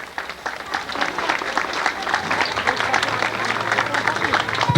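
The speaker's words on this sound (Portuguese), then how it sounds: "palmas para a Escola Estadual São João Batista" A crowd applauds a state school at an outdoor anniversary celebration of a district, with lively clapping that grows louder, cheering voices and a low hum partway through.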